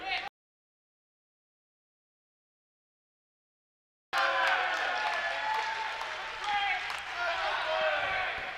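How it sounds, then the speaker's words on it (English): After a short silence, a crowd at a girls' high school basketball game breaks into sustained applause and cheering that fills the gym, with voices mixed in. "Rose Ozenhorl gets a round of applause."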